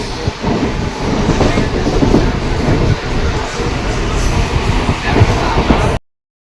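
A train rumbles steadily along the rails, dense low-frequency clatter and rhythmic wheel thumps continuing throughout, loud and close, then cutting off abruptly.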